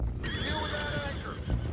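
A horse whinnies in a long, wavering neigh in Red Dead Redemption 2, over a busy background rumble, with faint hoof sounds and game ambience.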